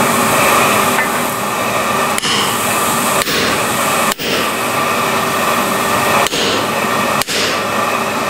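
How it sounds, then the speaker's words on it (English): Hammer blows forge weld wrought iron to 1045 steel, with about seven sharp, loud strikes at uneven intervals of roughly a second, all over a constant roaring background noise. "then we can bring that combination to the fire and forge weld it"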